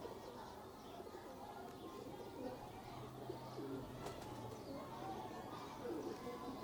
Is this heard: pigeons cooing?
yes